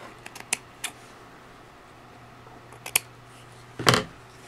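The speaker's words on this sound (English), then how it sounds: "I'm going to cut the ribbon right here." Scissors cut ribbon on a vintage hanky doll in a few faint, close snips and clicks spaced apart, ending with one louder, longer cut over a low steady room hum.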